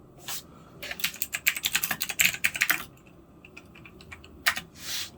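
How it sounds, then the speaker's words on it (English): A computer keyboard is typed on up close in quick bursts of clicky keystrokes, a dense run of taps followed by a pause and a few final presses. "So we type that in."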